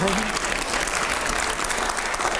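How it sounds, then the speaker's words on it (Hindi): A studio audience on a TV9 debate show with five editors applauds a guest loudly and continuously. The dense clapping holds steady throughout, with a presenter's voice briefly audible over it. "जोरदार तालियां मदनी साहब के लिए"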